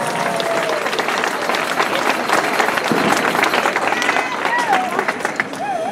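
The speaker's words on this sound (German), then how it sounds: "einen Applaus für Sie" A crowd at an outdoor demonstration in Stuttgart applauds a speaker, with steady clapping and cheering sustained throughout and some murmuring voices mixed in.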